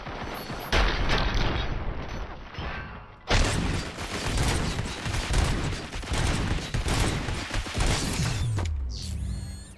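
Gunfire in RoboCop: Rogue City: a dense, sustained barrage of shots with mechanical clatter, loud and continuous, with one short lull and a heavy restart partway through.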